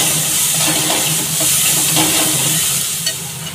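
Ground radhuni and mustard paste sautéing in a pan for kochu shak, a dense steady hiss and sizzle with faint stirring scrapes, close and loud, with no one speaking.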